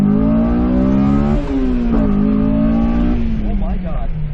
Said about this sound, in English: Let's crack into VTEC a little bit